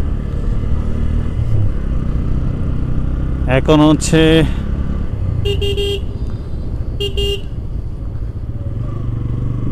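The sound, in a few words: Royal Enfield motorcycle engine running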